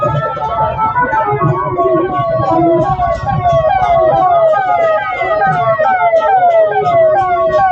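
An ambulance siren wails loud and close in a jammed road blocked by barricades, its rising and falling tone repeating steadily over engine and traffic noise, with people shouting faintly beneath it.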